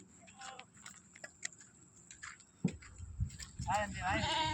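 Grazing goats bleat in quick, wavering calls that grow louder and more frequent toward the end, over a background of talking voices and light ticking.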